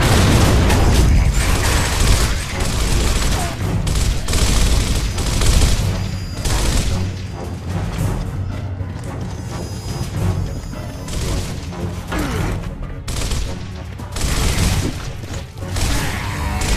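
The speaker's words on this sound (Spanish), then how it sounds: "¡Lanzando granadas!" Grenade blasts and heavy gunfire in the video game Gears of War, loud continuous bursts of shots and booming explosions with shouted voices mixed in.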